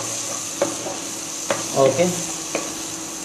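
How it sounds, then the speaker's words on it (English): Tomato juliennes being stirred into onions frying in a pan, giving a steady sizzle with a few short scraping knocks of the spoon at irregular intervals. "let me stir it properly"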